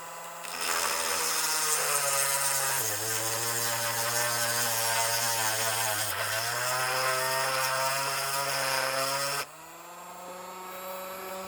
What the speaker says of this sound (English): I got just a cordless Dremel here now. And I got to make this hole a little bit bigger